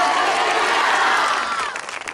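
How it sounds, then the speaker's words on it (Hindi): A church congregation gives a burst of loud, dense applause with some cheering, the clapping holding steady before thinning out and fading near the end. "एक जोरदार ताली हो जाए मेरे यीशु के लिए"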